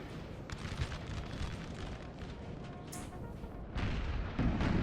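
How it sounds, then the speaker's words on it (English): Artillery fire on a Napoleonic Waterloo battlefield in Total War 3, distant cannon booms and crackling musketry rolling under a constant battle din, with a louder burst near the end. "You can see artillery starting to focus down the Landwehr here."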